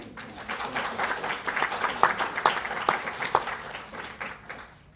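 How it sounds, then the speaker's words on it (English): Audience applause for a speaker at a live Sunday service event, a steady round of clapping with scattered louder claps, swelling in the middle and fading out at the end. "let's give Virginia a round of applause."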